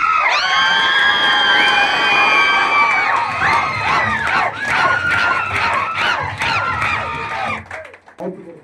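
A crowd at a gold manager achievement celebration cheers loudly, with high whoops, shouts and whistle-like cries ringing out together before breaking into scattered yells and fading.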